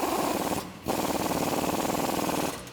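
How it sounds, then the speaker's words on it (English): A socket wrench on a 21mm socket tightens the track bar bolt and flag nut on a Jeep Wrangler JK. Rapid ratcheting clicks rattle up close, broken by one brief pause. "then we can tighten it down with a 21mm socket"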